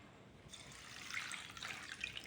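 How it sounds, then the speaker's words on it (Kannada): Water poured from a tap or vessel over washed ragi (finger millet) being soaked for dosa batter. A faint, steady trickling splash starts after a brief quiet moment and continues to the end. "ನೀರು ಹಾಕಿ"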